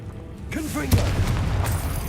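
A Confringo blasting spell goes off in Hogwarts Legacy, a sharp boom near the middle over rumbling game ambience, with a voice speaking briefly just before.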